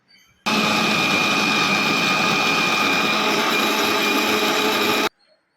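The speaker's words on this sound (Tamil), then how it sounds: "இப்போ வந்து மிக்சி ஜாரில் சேர்த்து மிக்ஸாக அரைச்சி எடுத்துக்கணும்" A kitchen mixer grinder whirs loudly and steadily for about five seconds while grinding cooled chayote chutney in its jar, starting and stopping abruptly with no talk over it.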